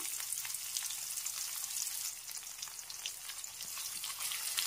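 Chopped onion sizzles hard in hot oil in a wok, a dense, continuous close-up crackle and hiss with faint stirring, no voices.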